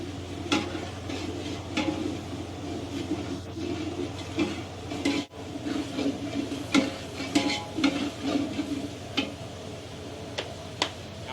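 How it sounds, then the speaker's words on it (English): Half a kilo of onion flakes is stirred into a large catering batch of chicken biryani, giving soft scraping and faint sizzling with irregular ticks of a ladle against the pot, moderately quiet throughout. "Now it's going in onion flakes, and this is half a kilo."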